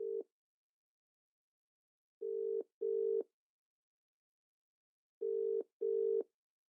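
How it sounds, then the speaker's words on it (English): Telephone tones during a phone call: short steady electronic beeps, one, then a pair, a pause and another pair, clean and isolated against silence. "We rejoin the story with Owen Blakewell making a phone call."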